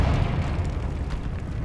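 The Confringo explosive spell in Hogwarts Legacy produces a dense, booming blast. Its low rumble is heavy and sustained for under two seconds.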